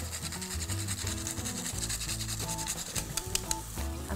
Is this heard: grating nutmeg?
yes